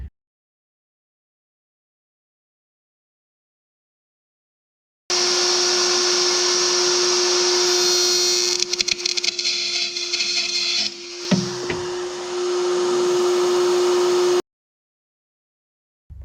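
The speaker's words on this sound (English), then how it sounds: "I was just routering this one" A router cutting Baltic birch plywood whines steadily and loudly for about nine seconds with a constant pitch, briefly roughening and bogging as the bit catches, then cuts off abruptly; no speech.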